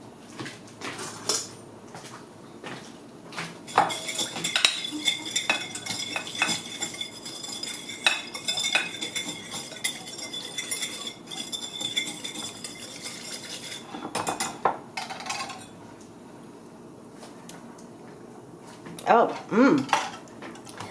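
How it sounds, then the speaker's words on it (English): A utensil stirs and mixes food in a bowl while chopped tomatoes wait to go in, making steady clinking and scraping against the dish with a few louder knocks near the end, close up. "I'm just going to mix this together and taste it real quick"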